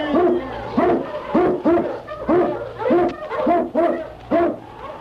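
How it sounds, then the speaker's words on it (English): Eskimo sled dogs open a radio drama with a rapid run of about nine loud, close, howling barks in a steady rhythm, each a rising and falling yelp with brief gaps between. "King, the swiftest, strongest of Eskimo lead dogs, blazes the trail through storm and snow"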